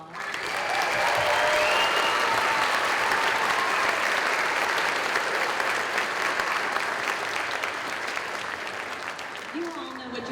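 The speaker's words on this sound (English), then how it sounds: "Could we give the band another round of applause?" Sustained applause from a live audience for a school band at an arts festival concert, loud and steady for about ten seconds with a few scattered cheers mixed in, tapering slightly toward the end.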